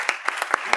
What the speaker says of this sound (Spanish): Un último aplauso a nuestro ponente.